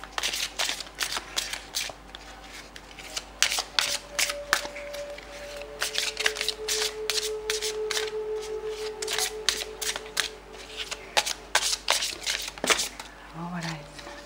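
Tarot cards are shuffled for a reading, a long run of quick, crisp riffling and slapping bursts at close range, with a quiet tonal hum in the background.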